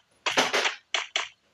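Four sharp gunshots in a video game: two close together, then a short pause, then two more. The shots are crisp and loud against an otherwise quiet background.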